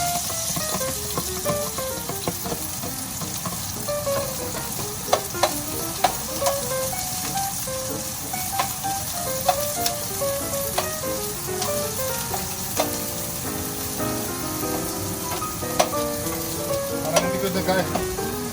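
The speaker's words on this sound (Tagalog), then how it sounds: "Isatin na natin itong sibuyas natin" Onions sauté in a hot pan with a steady, loud, continuous sizzle, punctuated by light clinks and scrapes of stirring.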